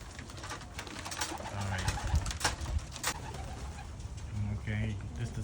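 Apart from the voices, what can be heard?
birds in a cage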